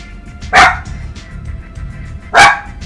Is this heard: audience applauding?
no